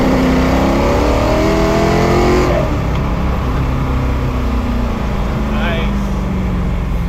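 A Ford GT40 pulls hard in first gear, its engine note climbing in rising harmonics before a shift, then settling into a steady loud drone with people talking over it.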